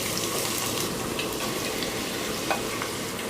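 About one and a half cups of chopped onions frying in oil for a goat meat curry, a steady dense sizzle with faint stirring scrapes, close and continuous.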